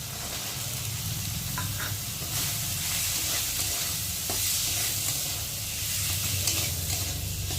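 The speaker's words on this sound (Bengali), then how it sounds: "ছোলাটাও ভেজে নেব।" Raw chickpeas frying in spiced masala for taro-leaf curry make a continuous hissing sizzle with light stirring scrapes, moderately quiet and steady, no voices.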